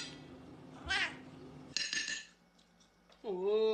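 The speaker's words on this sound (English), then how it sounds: "We got a kitty." A cat meows loudly and close by, with a drawn-out wavering call near the end, amid faint clatter and a sharp knock in between.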